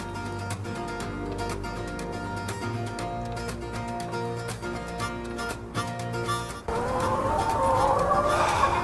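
Swiss-German hens cluck over loud rhythmic music with a steady beat, the clucking mixed into the busy backing track.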